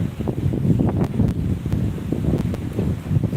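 Strong gusting wind from Cyclone Fengal roars across the microphone in a steady, loud buffeting rush, with scattered rattles and knocks over the continuous blustery noise.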